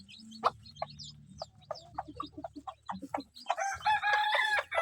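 Chickens, including a hen with young chicks, cluck in short bursts near a rural coop while a rooster crows loudly at the end.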